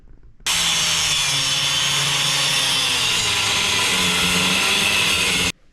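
A power sander grinds steadily on metal plate and ears for a CAT excavator bucket being fitted to a Kubota, a loud continuous abrasive whir that starts abruptly and stops just as suddenly.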